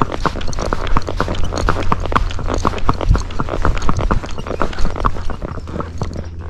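Hooves of a young Fox Trotter clip-clop steadily along a road under a rider, a quick, even gait of close, distinct beats that carries on throughout with a low rumble beneath.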